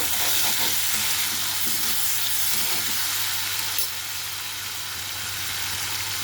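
Tomatoes drop into a pan of frying green chillies, giving a loud, steady sizzle with bursts of stirring, close up and without speech.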